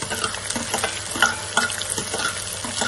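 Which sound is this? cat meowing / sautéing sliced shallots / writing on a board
sautéing sliced shallots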